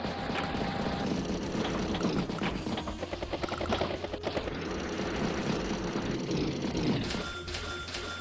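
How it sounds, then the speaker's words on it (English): An anti-air unit shooting down a bomber in the Advance Wars video game: a dense, loud mechanical roar with a rapid, rattling burst of repeated shots through the middle, all without voices. "Anti-air will strike the bomber and shooting out of the sky."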